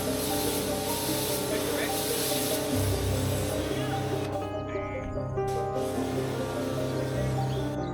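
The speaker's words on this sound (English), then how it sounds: "I'll give the roof a thorough rinse with the power washer" Power washer rinsing the roof cover of a polytunnel: a steady, broad hissing spray held close and loud for the whole stretch, with a motor drone underneath and a brief shift partway through.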